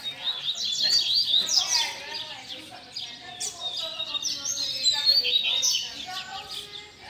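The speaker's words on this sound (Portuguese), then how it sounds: "Coleira marreta aí, ó. Olha que canto, galera." A coleiro, the double-collared seedeater, sings loud and close in rapid, varied bursts of high chirps and trills, with other small birds and faint talk in the background.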